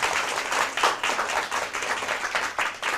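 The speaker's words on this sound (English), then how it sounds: "Round of applause for the SDA Academy." Applause for the SDA Academy team at a school math championship, a steady wash of many hands clapping from a crowd, moderately loud and continuous for a few seconds with no talking.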